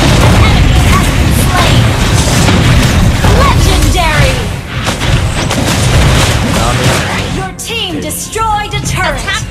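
A turret blows up with a loud, booming crash in a Mobile Legends match played as Gusion. It sits within a continuous, dense barrage of battle effects, and voices and game announcements talk over the action.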